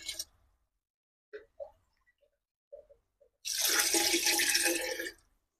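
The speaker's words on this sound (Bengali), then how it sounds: "এবার চলো চালের মধ্যে আমি জল দিয়ে দিই" Water pours into rice for Badshahi pulao in one steady, rushing stream lasting about a second and a half, after a few faint clinks and taps in an otherwise quiet kitchen.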